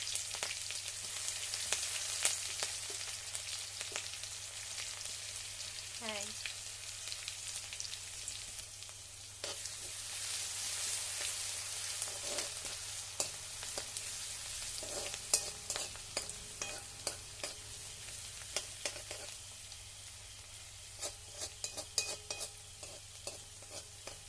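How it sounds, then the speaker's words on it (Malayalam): Steady broadband sizzling of crushed garlic and shallots frying in oil, with intermittent stirring scrapes and crackles, close up and continuous without talk. "വേപ്പിൻ്റെതും വെളുത്തുള്ളിയും ചുവന്നുള്ളിയും കൂടി ചതച്ചിട്ട് കൊടുക്കാം"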